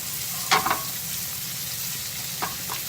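Mushrooms, shallots and grilled canned artichokes fry in a pan with a steady close sizzle, and a couple of short scraping stirs break through it.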